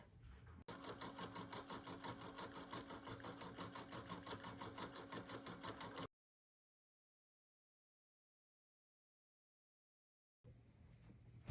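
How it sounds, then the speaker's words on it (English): A home embroidery machine stitching a personalization in white thread on an in-the-hoop stuffed bear, a steady rapid mechanical chatter running close and loud for about five seconds, then silence before a quieter stretch resumes. "I'm gonna put it back into my machine and I'm gonna run my personalization step"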